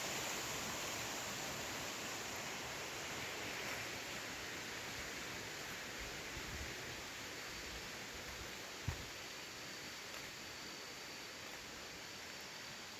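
A deep mountain stream near Pooparai in Kerala's Idukki hills rushes with a steady, soft, hissing flow, continuous and even throughout, with a single faint knock partway through.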